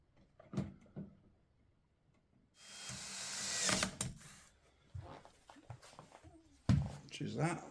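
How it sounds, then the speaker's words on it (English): Screws being fitted back into an extractor fan motor housing: intermittent close clicks, scrapes and ratcheting handling noises, with a voice speaking between them. "I'm just going to replace the 4 screws that were holding it in"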